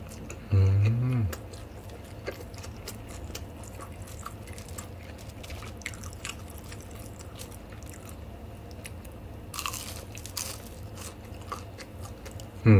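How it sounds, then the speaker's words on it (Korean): Fried seaweed rolls dipped in tteokbokki sauce are bitten and chewed up close. Crunchy bites and moist chewing run through a steady background hum, with a loud thump at the start. "김말이는 이렇게 딱 양념을 찍어서"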